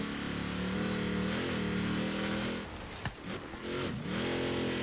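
BJ Baldwin's trophy truck engine in a Baja 1000 racing video game revs and bogs down, its tone rising and falling in long sweeps and dipping briefly near the end before climbing again.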